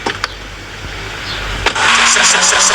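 A car engine starts up in the GTA video game, with a brief crank and then a steady, loud idle that holds to the end after a few faint clicks.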